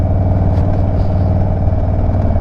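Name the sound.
2022 Indian Chief motorcycle engine, loud un-jetted exhaust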